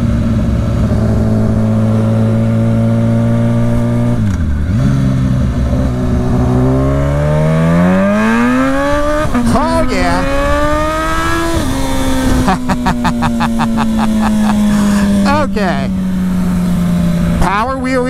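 A parts-bin motorcycle's engine climbs and falls through rising revs and gear changes while power-wheelying, loud and close, its tone sweeping upward with brief drops between shifts.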